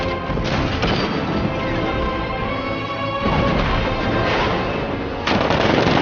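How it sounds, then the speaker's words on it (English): A tank's 60mm cannon fires in Batman: Arkham Knight, loud booming blasts layered over continuous game noise and music, with a heavy burst near the start and another strong hit toward the end. "60mm cannon operational."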